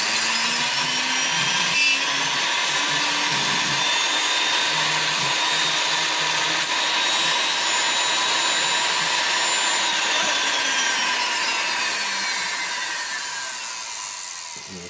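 A power carving tool grinds into cottonwood bark while carving a face, giving a continuous high whine with a gritty rasping edge, close and steady, fading slightly near the end.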